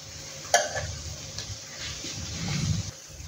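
Ghee added to tomato rice in a pan, a sharp metallic clink of a utensil followed by soft stirring scrapes and a faint sizzle building toward the end.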